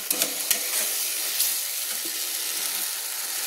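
Spice paste for a Bengali chang fish jhal fries in oil and is stirred, giving a loud, close, continuous sizzle with a few sharp scraping clicks early on and no voices.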